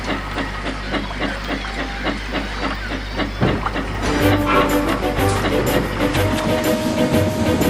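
A steam post train runs along the line at night, rhythmic chuffing and hiss under clattering wheels, growing louder and busier partway through.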